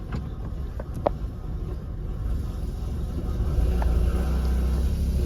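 Nissan Sentra B14 engine running while the car drives, a steady low rumbling road drone that builds slightly toward the end, with no talk over it.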